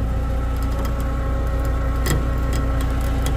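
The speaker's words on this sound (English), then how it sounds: "It's just this cable's making some noises." A winch cable under heavy strain while pulling a truck out of mud, worked by a Hino rollback flatbed, gives a steady low mechanical drone with faint ticking creaks, constant and close throughout.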